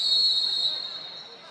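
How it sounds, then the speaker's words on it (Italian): A referee's whistle blows at an indoor futsal match, a steady shrill tone lasting about a second over faint crowd babble. "C'è il fischio"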